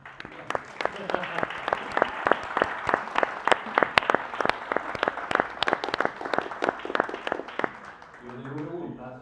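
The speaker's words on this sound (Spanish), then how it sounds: "Un aplauso." A small audience at a book launch claps steadily, sharp individual claps clearly separable, before a voice begins speaking at the end.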